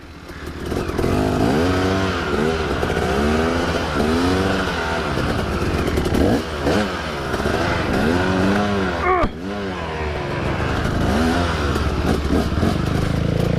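A 2-stroke supermoto motorcycle rides on a street, its loud, close engine buzzing and revving steadily with repeated rises and falls in pitch as it accelerates and shifts, one brief dip midway, no talk.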